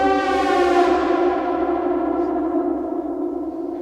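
A Prophet 10 synthesizer played through a UAFX tape echo pedal holds one sustained, harmonically rich chord with spacey echo and light saturation. It fades slowly over a few seconds, with no voices.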